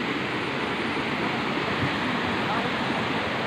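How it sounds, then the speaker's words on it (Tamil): A waterfall pours down in a forest near a Shiva temple, a steady, loud, broadband rush of falling water that fills the whole clip without pause. "பாருங்களா தண்ணி ஊற்றுது தண்ணி எங்கேருந்து தெரியல கீழே வந்து நீர்வீழ்ச்சி"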